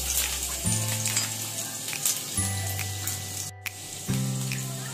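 Green chili and garlic sizzle in hot oil with a constant close, bright crackle. Recurring low tones and a brief dropout sit beneath the frying, and no one speaks.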